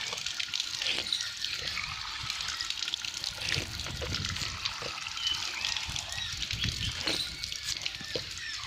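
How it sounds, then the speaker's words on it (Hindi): Cool drinking water trickles and splashes steadily from taps inside the courtyard of a Hindu Mahadev temple, continuous and fairly close, with faint voices in the background. "ये नल लगे हुए हैं"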